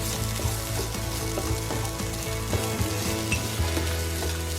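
Ginger sizzles steadily in hot oil in a pan as it is stirred, a continuous close frying hiss with faint scraping over background music and no talking.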